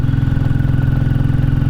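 A Royal Enfield Classic 350 single-cylinder engine labors up a steep zigzag road in Powys, Wales, with a loud, close, rhythmic thumping pulse that stays steady throughout.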